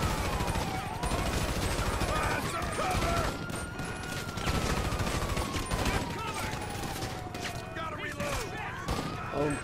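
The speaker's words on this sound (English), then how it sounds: "I'm actually getting shot at a lot here" Gunfire from a shootout in GTA 5 director mode: scattered, dense shots crackle continuously under a busy game mix, with a long sweeping tone running through it.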